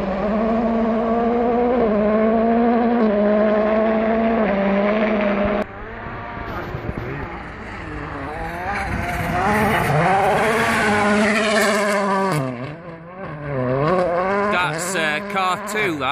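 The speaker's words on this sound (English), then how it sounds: "Car 5, that is that Mikko Hirvonen?" A WRC rally car attacks the Aberhirnant forest stage of Wales Rally GB, its engine screaming loud and close as pitch rises and drops through gear changes and lifts, with bursts of revving as it passes.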